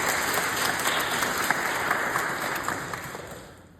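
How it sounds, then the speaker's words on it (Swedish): Audience applause in a church, Norrmalmskyrkan, during an ecumenical mass. A steady, dense wash of clapping holds evenly, then tapers toward the end, with no talk over it. "En applåd till Norrmalmskyrkan"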